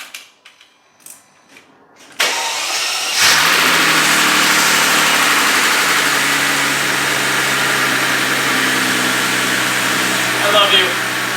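A Mercedes CL65 AMG V12 cranks and fires after a few quiet clicks, then settles into a loud, smooth, steady idle close by, with a small blip near the end.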